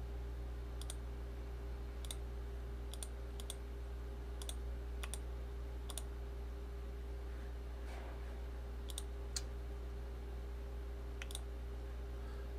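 Sharp, isolated computer mouse clicks, about a dozen spaced irregularly over a steady low electrical hum, close and fairly quiet, with no talking.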